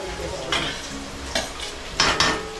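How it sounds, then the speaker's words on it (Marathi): Finely chopped onion frying in hot oil in a home kitchen, a steady sizzle broken by a few scraping stirs of a utensil against the pan. "तर आता आपलं तेल तापलेलं आहे. मी याच्यामध्ये हा सर्व कांदा घालते."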